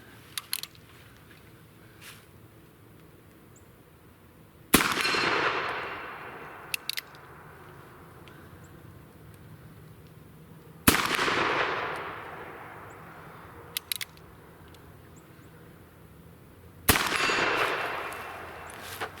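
A Ruger Super Blackhawk .44 Magnum revolver fired outdoors at steel targets, three loud booming shots spaced several seconds apart, each with a long echoing decay and faint metallic clicks between them.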